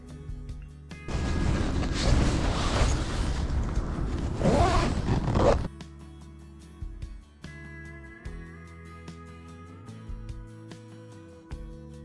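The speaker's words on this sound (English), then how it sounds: "You can open the ventilation from inside with the zipper." A Bergans Wiglo LT4 tent's ventilation zipper is drawn from inside in a long, loud, close scraping run lasting several seconds, followed by quieter handling sounds.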